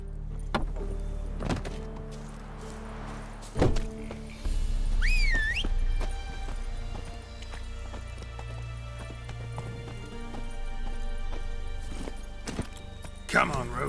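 Hoofbeats of the horse Roach galloping in The Witcher 3: Wild Hunt, a steady clip-clop carried along under game music and ambience, with brief game voices around it.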